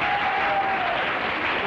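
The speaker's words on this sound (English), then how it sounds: "I can hear the guys cheering here." Studio audience on a vintage celebrity charades game show breaking into dense, steady applause, a loud close wash of clapping with faint cheering and no speech.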